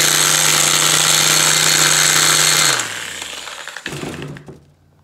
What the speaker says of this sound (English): This is my second sander over the years.